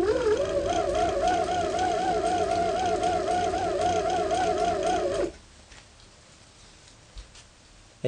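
A hand-crank generator feeding a 100 F ultracapacitor bank is cranked steadily, giving a loud, even mechanical whir with a rapid ticking rhythm that stops abruptly about two-thirds through, leaving quiet room tone.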